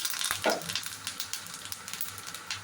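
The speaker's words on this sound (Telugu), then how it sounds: "మినపప్పు వేసుకొని తిరగమాత అయిన తర్వాత కొద్దిగా కరివేపాకు వేసుకోవాలి" Curry leaves dropped into a hot tempering of cumin, mustard seeds and urad dal, a brief crackling sizzle with quick spitting pops and light stirring, fairly quiet.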